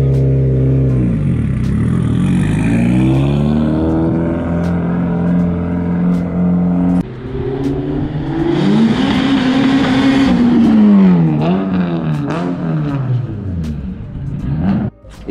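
A Mitsubishi Lancer Evo 6 rally car engine with a newly built gearbox revs hard and repeatedly, pitch sweeping up and down through several bursts, loud and close, with rattling mechanical noise.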